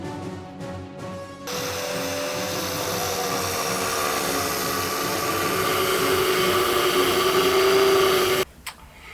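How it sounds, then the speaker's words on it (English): An angle grinder cuts into a stone slab outdoors for a garden coffee table planter, a brief whir spinning up into a steady, gritty grinding roar that rises slightly in pitch before cutting off abruptly. "So I've got my angle grinder plugged in, ready to go."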